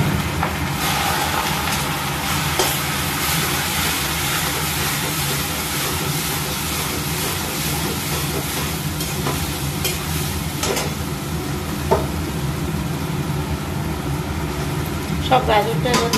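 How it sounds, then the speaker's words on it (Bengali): Grated carrot being stirred in ghee in a pan for carrot halwa, a steady close sizzle and scraping running throughout with occasional utensil clinks, with a voice talking over it. "এবার এটাকে এই ঘিয়ের মধ্যে ভালো করে একটু নেড়ে নেব"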